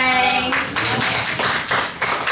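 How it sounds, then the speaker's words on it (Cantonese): A classroom of children bursts into applause, with fast, uneven hand claps that come in bursts. A lingering tone fades out at the start. "俾掌聲"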